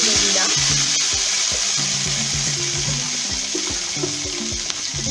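Beans sizzle steadily as they fry in oil in a wok for a Bengali panchmishali chochchori, with a continuous close hiss and repeated scraping clatters of stirring.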